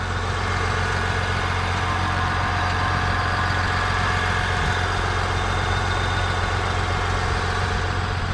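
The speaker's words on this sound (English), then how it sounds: "there's the engine" A GMC Sierra AT4 pickup truck's engine idles steadily at close range, a continuous low rumble with a constant hum and no talking over it.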